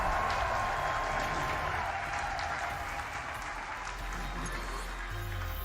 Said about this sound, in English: you hear the crowd just gearing up, especially all the French fans in attendance here today